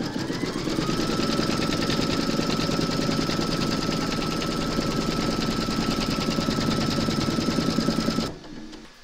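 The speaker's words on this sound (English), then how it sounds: "pop your hoop into your machine and stitch round number 2 to secure them" An embroidery machine stitching the second round of a large Mrs Claus applique in the hoop: a fast, loud, continuous mechanical whirr with steady needle chatter that stops abruptly near the end.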